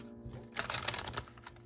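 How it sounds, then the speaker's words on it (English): Rapid papery riffling of tarot cards being shuffled, a dense burst of flicking clicks in the middle with quieter flutters before and after, close up. "That was a horrible shuffle."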